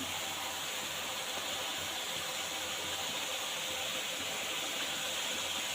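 Chili powder, coriander powder and turmeric sizzle as they are sautéed in a pan for a meat curry, a soft steady frying hiss that continues evenly without pauses or talk.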